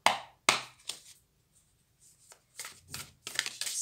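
Tarot cards being shuffled by hand during a daily card reading, in a few crisp riffling bursts separated by quiet pauses, close and fairly soft, with no talking.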